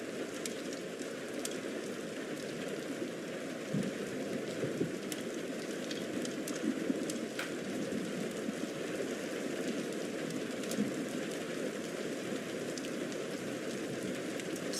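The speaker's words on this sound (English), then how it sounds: "It's just like a lightish rain to a crackling fireplace" Light rain pattering steadily alongside a crackling fireplace, a continuous soft hiss with faint scattered pops, even in level throughout with no talking.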